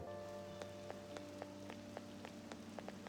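Rain falls steadily in the video game Persona 5 Royal, a soft continuous patter with scattered sharper drips, mixed with a faint sustained background tone and no talking.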